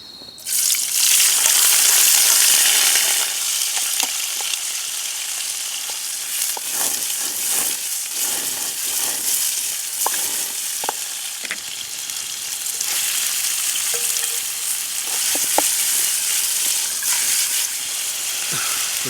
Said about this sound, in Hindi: तो सारे भाई पनीर, शिमला मिर्च और सारी चीज़ें हमने एक साथ डाल दी है इसमें।